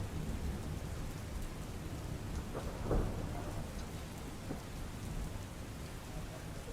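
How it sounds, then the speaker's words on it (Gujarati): Heavy rain pours down over Surat city, a dense, steady roar of water striking surfaces that holds constant throughout, with one slightly louder surge midway. "ગતરોજ મોડી સાંજે પડેલા વરસાદ બાદ સુરત શહેરમાં વરસાદની એન્ટ્રી અવિરતપણે જોવા મળી રહી છે."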